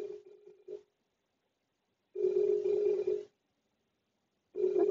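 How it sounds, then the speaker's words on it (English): A telephone keeps ringing after being hung up, giving clear repeated ring bursts of about a second each separated by silent gaps, heard alone. "I done hung up the phone and it's still just a ringing and a ringing."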